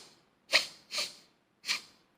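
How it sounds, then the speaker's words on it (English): Three short, sharp sniffs through the nose, close and fairly quiet, the first two quick together and the third after a brief pause. "You can also use your nose to sniff."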